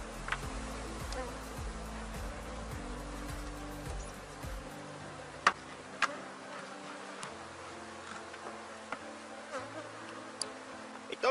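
Honeybees buzzing around a beehive being closed after an X-style swarm split, a steady close droning hum with soft scattered ticks and bumps, the low drone thinning out partway through.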